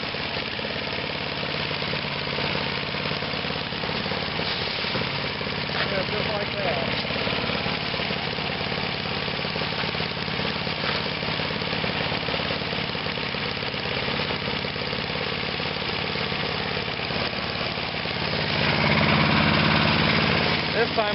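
An engine-powered leaf shredder runs steadily as leaves are fed in during fall yard cleanup, its mid-pitched motor droning close and constant, swelling louder near the end.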